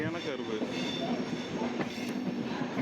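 A festival-season passenger train running from Villupuram to Nagapattinam rolls past on the rails, a steady rumble with faint clicking and a squeal, with a voice speaking over it.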